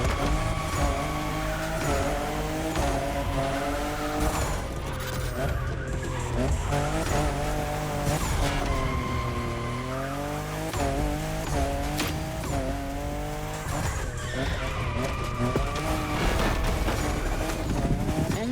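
A fifth-generation Toyota Supra in a racing video game, its engine revving up and down in continuous waves while tires squeal and skid repeatedly through turns, loud and unbroken for the whole stretch.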